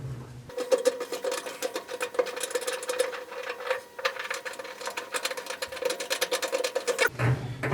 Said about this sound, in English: The first thing I'm going to do is clean the threads in the 3 holes on this side that have the captive nuts